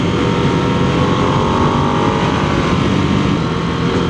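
A loud, steady Harley-Davidson Nightster V-twin engine roar with wind rush, continuous throughout, as if riding on a moving motorcycle.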